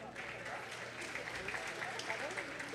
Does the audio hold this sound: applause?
yes